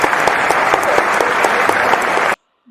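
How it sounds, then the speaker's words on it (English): A studio audience at a reality dating show finale claps loudly in a dense, steady burst for about two seconds before it cuts off abruptly into near silence. "Don't clap for that shit."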